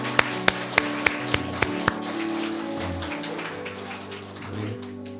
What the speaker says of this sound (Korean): 우리 박수로 한번 환영하도록 할까요?